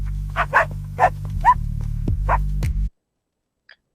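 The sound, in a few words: dog barking in AI-generated video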